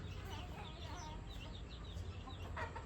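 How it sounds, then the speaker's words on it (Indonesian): Chickens clucking and chattering nearby while being fed, over a low rumbling background, with soft bird calls scattered throughout. "Ini aku sambil ngasih makan ayam ya"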